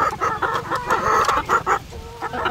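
Battery-caged laying hens clucking close by in a quick, irregular series of short, throaty calls, with busy farmyard sounds in the background.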